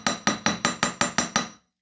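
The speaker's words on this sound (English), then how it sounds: "Now I'm just going to hammer the loop on the end of a wire block, on a steel block" Wire loop struck with a hammer against a steel block while making a copper jewelry piece: seven evenly spaced, sharp metallic taps about a fifth of a second apart, close and clear, ending in silence.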